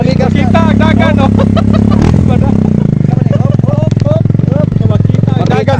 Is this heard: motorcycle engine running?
yes